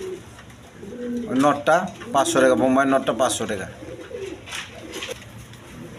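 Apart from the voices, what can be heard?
pigeons cooing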